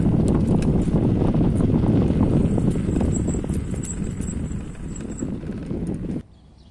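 River water in Khabarovsk splashes and gurgles continuously against a windy, rushing background, fairly close, then cuts off abruptly near the end.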